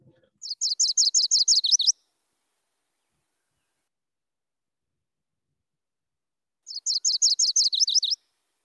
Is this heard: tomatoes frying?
no